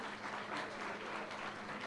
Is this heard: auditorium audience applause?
yes